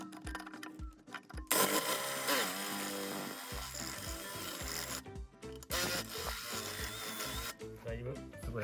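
Screw heads being deliberately crushed with a tool to mimic stripped screws: two long bursts of harsh grinding and rasping metal, loud and close, separated by quieter gaps with clicks and handling noise.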